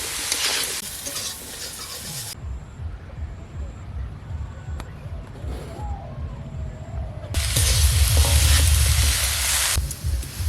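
Vegetables frying in oil in a pan, a close sizzle that comes in bursts with quieter stretches between, and a voice speaking in the background at times.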